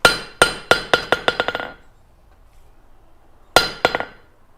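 A hammer rings on metal at a forge in a quickening series of bright strikes, pauses in near silence, then lands a shorter burst of clanging blows.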